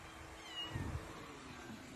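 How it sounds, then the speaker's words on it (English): A kitten gives a faint meow, short and soft, over quiet background hiss. "We got a kitten problem"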